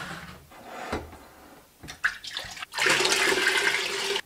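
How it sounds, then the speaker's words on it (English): Apple cider vinegar and distilled white vinegar are poured into a pot for canned coleslaw brine. A few brief splashes give way to a loud, steady pouring stream near the end, close by and with no speech. "I'm gonna add 8 cups of apple cider vinegar and 8 cups of distilled white vinegar."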